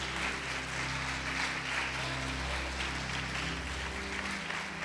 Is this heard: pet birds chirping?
no